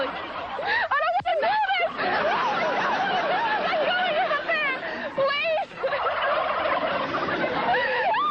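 Wild turkeys gobble loudly and continuously at close range, a dense flock of rattling, warbling calls overlapping throughout with no pause.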